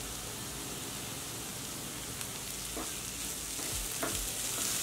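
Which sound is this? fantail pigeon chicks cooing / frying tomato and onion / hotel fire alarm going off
frying tomato and onion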